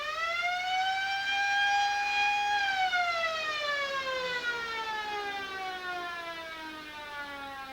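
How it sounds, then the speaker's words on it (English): A quarter-time siren wails across the ground at a 2002 league grand final football match, a loud sustained tone that holds steady, then slowly falls in pitch over several seconds, heard alone without commentary. "the quarter time siren has gone"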